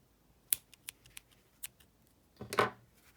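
Scissors snip through crochet yarn: a few sharp, close clicks spaced apart, then a longer crisp cut near the end in an otherwise quiet room.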